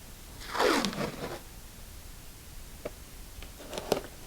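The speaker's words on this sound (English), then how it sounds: "put the tape so the top and the bottom come together" Tape is pulled off its roll and stretched around a winter sowing container, giving one loud, near tearing rip, a few fainter crinkles after a pause, then a short burst of sharp snaps near the end.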